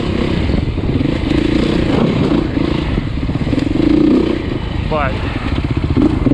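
A Beta trials motorcycle engine runs steadily close by while the bike is ridden, a loud continuous mechanical drone with a brief rising whine near the end. Someone talks over the engine noise.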